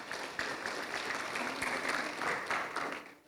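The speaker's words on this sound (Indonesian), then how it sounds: "tepuk tangan untuk Ustadz Nasruddin Syarif" A crowd claps steadily at a school launch event, a dense patter of applause lasting a few seconds before tapering off at the end.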